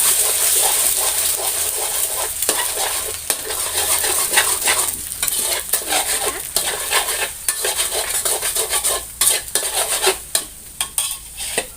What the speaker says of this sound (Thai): ใส่ไข่ทั้งหมด 3 ฟองนะคะ คนไข่ให้เข้ากันเลยค่ะ